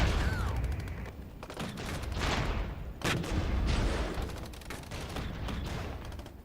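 Apache helicopters fire on T-80 tanks in the war game Regiments, with rolling bursts of cannon and gunfire, booms and impacts overlapping in a dense, loud barrage.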